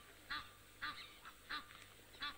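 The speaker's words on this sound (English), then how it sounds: "Egyptian geese are still shouting at him" Egyptian geese honk repeatedly at a safari waterhole, four evenly spaced harsh calls, faint and distant, with no voices.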